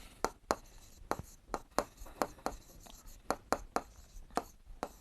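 Pen or marker strokes on a classroom board during a math lesson, a steady run of about a dozen crisp scratching strokes in an uneven rhythm, close and clear with no talking.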